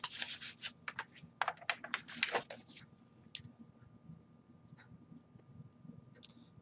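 Several quick computer keyboard key presses in a short burst, clicking close and fairly quiet, then a few scattered isolated taps after a pause.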